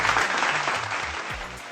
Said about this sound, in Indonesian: Tepuk tangan buat Bapak Eka.